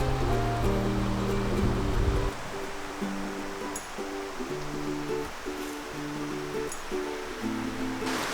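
Steady rushing of a creek after a hurricane, a fallen bridge lying in the water, fills the background, with some faint low tones drifting over it.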